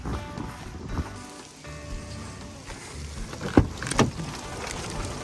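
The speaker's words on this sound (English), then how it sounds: "The rain has started, you guys." Rain beginning to fall outdoors beside a roadside van, a steady soft patter and hiss of drops running through the whole stretch with a couple of louder close splashes near the end; no one speaks.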